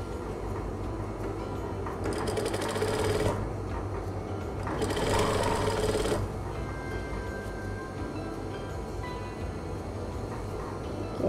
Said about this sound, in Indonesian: So kita habiskan jahitan kita.